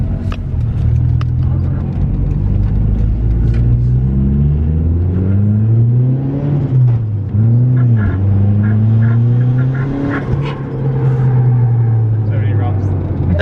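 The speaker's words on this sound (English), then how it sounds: "That second gear pull really feels like it wants to go somewhere." Mitsubishi Lancer CE with a Walbro fuel pump upgrade pulling hard in second gear, a loud, steady engine drone that rises in pitch and dips briefly between shifts, with people talking inside the cabin over it.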